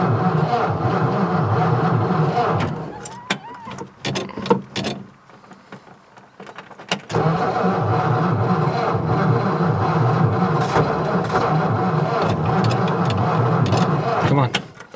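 A 1955 Ford Fairlane engine cranks loudly, drops away briefly, then catches and runs with a steady rough rumble, with voices over it.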